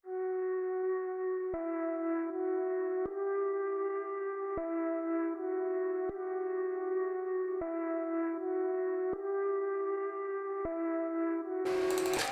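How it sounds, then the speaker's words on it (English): A slow, steady flute melody of sustained notes changing every second or so, soft and reverberant, playing alone and ending in a brief burst of noise. "So here's what the flute sounds like."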